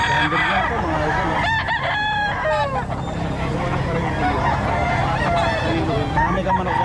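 A rooster crows a couple of times amid a noisy background of clucking chickens and general outdoor hubbub.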